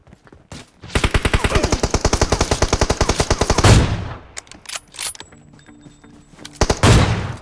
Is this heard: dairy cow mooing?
no